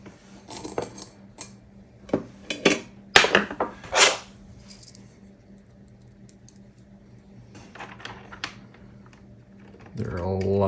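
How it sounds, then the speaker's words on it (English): Small screws going back into an Atari Falcon computer case: a scatter of sharp metallic clicks and taps, close and clear, in irregular bursts with quieter handling noise between them. "let's see about starting to add some of the screws back in."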